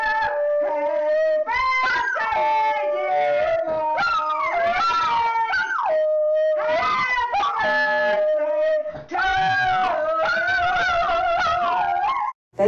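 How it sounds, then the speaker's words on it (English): A woman sings in a very high, screechy voice while a dog howls along with her, their wavering pitched tones overlapping continuously and up close, with short breaks between phrases. "gets her dog to sing while she sings a really high, screechy voice."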